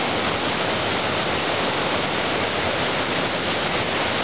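Rushing water from the Kosiv waterfalls on a Carpathian mountain river pours in a loud, steady broadband roar that stays constant and close, with no voices.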